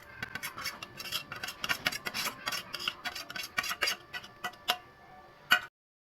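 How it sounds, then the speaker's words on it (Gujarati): Grated paneer goes into a pan and is stirred for paneer bhurji, giving close, rapid scraping and ticking of a spoon against metal in busy irregular bursts, ending with a sharp clink before it falls silent. "તે છીણેલું પનીર હું અંદર એડ કરી દઉં છું."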